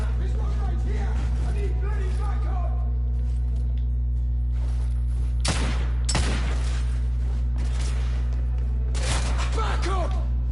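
Semi-automatic rifle fire in the video game The Order: 1886, like an M1 Garand, with two or three heavy shots cracking over a constant low engine-like rumble and background game noise.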